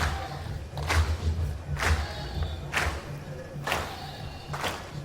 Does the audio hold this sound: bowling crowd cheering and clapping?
yes